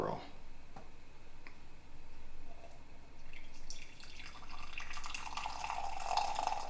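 Hot coffee pours from the thermal carafe of a Ninja Hot and Iced Coffee Maker CM305, a soft liquid stream building in the second half and growing steadily louder, with faint clicks and handling noise early on.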